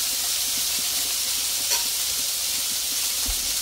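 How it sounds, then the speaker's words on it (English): Burgers sizzle in grease on a Blackstone griddle, a steady broadband hiss that holds at an even level throughout, close and fairly loud, with no talk over it. "The burgers are just sitting in the long grease cooking."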